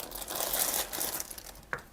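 A plastic shipping bag for a budget AliExpress backpack crinkles and rustles as it is opened by hand, close and fairly loud, with a sharper crackle near the end.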